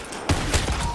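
Gunfire in a Call of Duty zombies game, a short burst of three punchy shots about a quarter second apart over steady game background noise.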